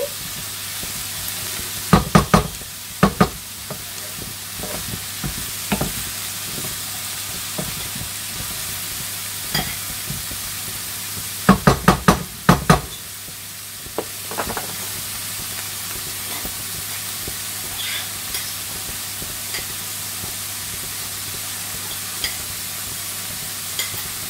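Minced meat cooks in a pan under a steady hiss of frying, stirred in bursts of clustered scraping and clattering strokes around the start and middle, then left to sizzle more calmly.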